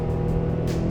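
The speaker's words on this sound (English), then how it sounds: "It also has an aftermarket exhaust, so it sounds like this." A Honda Prelude fitted with an aftermarket exhaust and modified intake runs close by, giving a loud, steady engine drone with a deep, continuous exhaust tone throughout the short burst.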